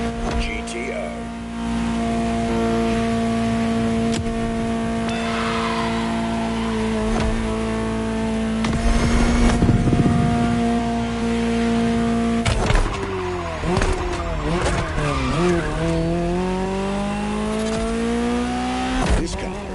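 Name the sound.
Ferrari GTO car driving and skidding, video game The Crew Motorfest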